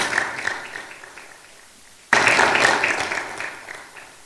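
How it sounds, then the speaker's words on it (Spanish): A church congregation applauds during a sermon, a softer patter of clapping that suddenly swells into a louder, fuller burst midway and then gradually tapers. "Un aplauso al que vive para siempre"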